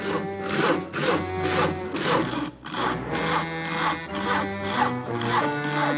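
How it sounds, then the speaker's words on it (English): Rhythmic back-and-forth sawing through wood in a cartoon, steady strokes repeating about twice a second, close and fairly loud with no talking. "Isn't that your house Harry is sawing on?"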